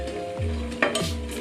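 Food hits a hot pan for a stir-fry with tofu, broccoli and rice, setting off a loud, steady sizzle with a sharp crackling burst midway, close by and with no voices.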